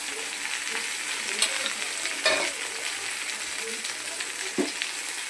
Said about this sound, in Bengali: সবজিটা আমার ভাজা হয়ে গেছে। এবার আমি মশলাগুলোকে দিয়ে দিচ্ছি।